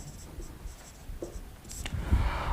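A teacher writes on a board during a maths lesson on area and perimeter. Short, close, scratchy strokes come in an irregular run, with no talking over them.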